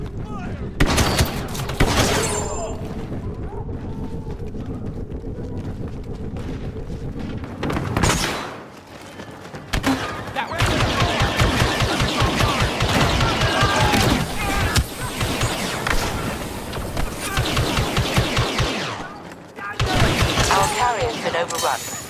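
Rapid blaster fire crackles in a Star Wars Battlefront 2 battle, dense overlapping bursts with explosions and shouted game voices, pausing briefly before resuming.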